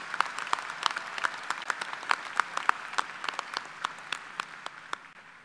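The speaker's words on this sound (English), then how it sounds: "Let's give a big round of applause for that diversity." Commencement audience at UT Martin's fall 2023 graduation claps in sparse, distinct hand claps, fairly faint and irregular, scattered across a large hall with no talk over it.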